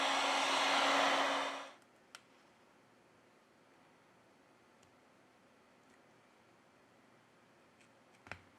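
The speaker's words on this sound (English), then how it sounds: "With the help of a heat gun, we apply 90 Celsius degrees during 4 minutes." A heat gun warming the screen of a OnePlus 6T phone gives a loud, steady broadband blowing rush for under two seconds, then cuts off, leaving faint room tone with a few small ticks and a click at the end.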